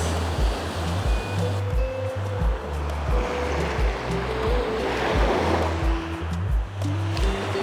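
Ocean waves break on the Hokkaido shore, a loud, continuous surf wash with rhythmic low thumps and rushing spray, close at hand.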